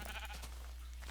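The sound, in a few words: sheep bleating in Minecraft video game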